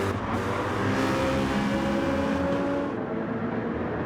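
A touring car engine in a BTCC-style sim racing game, including a Citroen, holds a steady loud drone with harmonic whine, shifting slightly in pitch as it runs at speed, continuous throughout with no talking.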